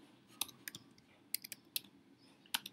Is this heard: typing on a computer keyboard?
yes